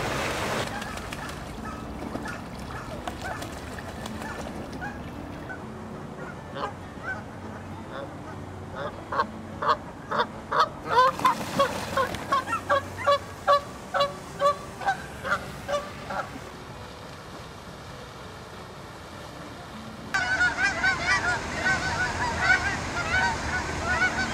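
Geese honk in a rhythmic series of loud, nasal calls, close by, rising to a dense run of repeated honks midway and then returning as a noisy flock chorus.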